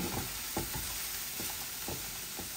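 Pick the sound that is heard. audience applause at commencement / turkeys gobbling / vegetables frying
vegetables frying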